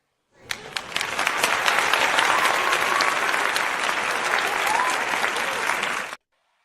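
A burst of dense applause from many hands starts abruptly, holds at an even, fairly loud level for about five and a half seconds, then cuts off sharply.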